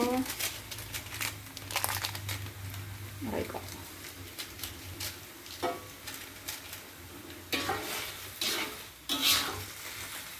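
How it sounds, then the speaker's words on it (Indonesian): Bean sprouts simmer in a pan for a spicy balado dish, giving a faint bubbling sizzle broken by crinkly stirring scrapes and utensil clatter, with quiet intermittent sounds close by. "Ini udah mendidih dan sayurnya juga udah sedikit layu."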